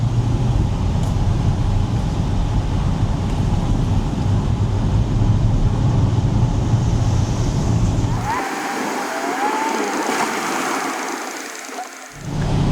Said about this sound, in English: we're gonna take this sucker on throttle, baby.